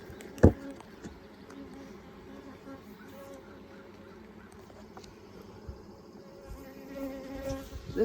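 Honeybees buzz steadily close by during an inspection of a backyard beehive, a continuous low drone with a sharp knock near the start and faint background noise throughout.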